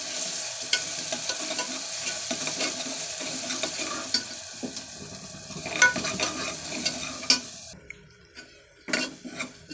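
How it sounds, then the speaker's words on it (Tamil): Green chillies and fish sautéing in a pan for tomato rice: a steady close sizzle with frequent scraping and stirring clinks, which thin out near the end before a last stir. "நல்லாவே வதங்கிருச்சு"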